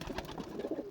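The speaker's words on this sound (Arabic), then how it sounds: "حمام زي ما انتم شايفين كده بره اهوت، والحمام ده عاوز يطلع" Pigeons cooing inside a pigeon loft, soft overlapping low coos close by against a busy background murmur.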